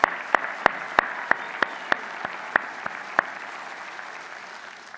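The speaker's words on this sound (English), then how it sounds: "how about a special round of applause for our graduating class of 2018" Audience applause for the graduating class of 2018 at a fall evening Mohawk College convocation ceremony, a steady broad clapping with a few sharp louder claps standing out, sustained throughout and easing slightly near the end.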